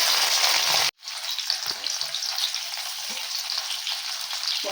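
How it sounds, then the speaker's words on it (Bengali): Paneer fries in hot white oil with a bright, steady sizzle. The sound drops out briefly once, then returns with soft bubbling crackles. "পনিরটা ভাজার জন্য সাদা তেল দিয়ে দেবো।"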